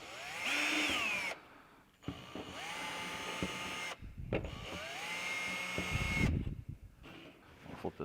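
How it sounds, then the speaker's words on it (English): A power drill whirs in several bursts, spinning up and cutting through a ceiling to mount a security camera, with brief pauses between runs and a clatter near the end. "We're going to drill through."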